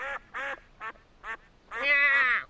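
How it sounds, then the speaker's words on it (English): A family of cartoon ducks quacks in a children's Christmas story, four short close quacks followed by one longer drawn-out call, clear and loud with no talk over them. "he saw the family of ducks waddling along"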